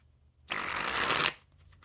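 A deck of Art of Play Midway Gardens playing cards on crushed stock with an air-cushion finish, sprung from hand to hand in one loud, close, fluttering burst lasting under a second.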